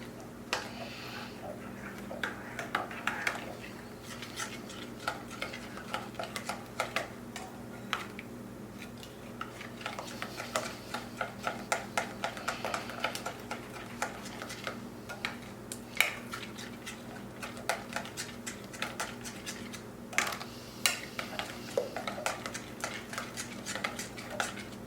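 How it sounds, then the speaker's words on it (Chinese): Spoon or whisk stirring pumpkin pie filling in a bowl, a steady run of soft clinks and scrapes against the bowl over a low background hum, close and fairly quiet. "再把它们搅拌均匀。"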